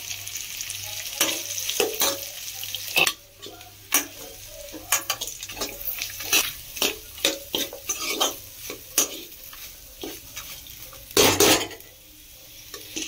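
Grated coconut sautés in a pan under a soft, steady sizzle. A spatula scrapes and clinks against the pan in repeated close strokes, and no one speaks.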